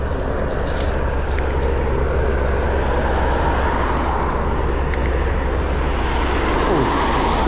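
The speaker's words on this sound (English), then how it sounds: "I wonder who's on that helicopter." A helicopter rumbles overhead with a steady, loud drone that holds unbroken throughout, heard outdoors on a walk through brambly countryside.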